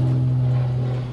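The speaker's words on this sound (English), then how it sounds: "So y'all just gonna have to pardon the fan noise because it's 100 degrees." An electric fan runs close by in 100-degree heat during work on custom race trailer door hinges, a steady loud hum with a strong low tonal drone and no talk.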